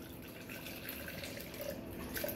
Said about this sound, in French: je prends de l'eau. Voilà, je vais mettre un peu d'eau.